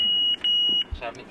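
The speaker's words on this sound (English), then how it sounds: "It sends a warning beep when the car swerves out of its lane" A Mobileye driver assistance system sounds a warning inside a car: two sharp high-pitched electronic beeps in quick succession, loud and close, followed by someone speaking.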